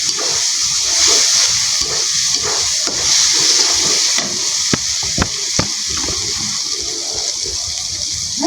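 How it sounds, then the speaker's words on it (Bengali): Spice paste fries in oil for a Bengali village-style chicken curry, a steady crackling sizzle with occasional stirring scrapes and sharp clinks, close and continuous. "মশলাটা তেলের উপরে দিয়ে মশলাটা ভেজে নেবো।"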